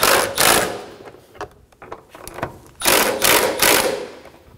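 A power tool on a 2013-2017 Honda Accord 2.4L snugs down airbox bolts in short buzzing bursts, two longer runs with brief pulses between, close and loud with no talk.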